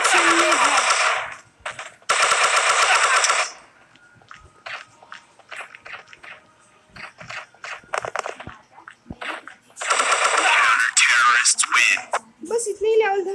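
Automatic gunfire in the Cover Strike shooter game, two loud rapid bursts early and another near the end, separated by quieter footsteps and clicks while a player talks.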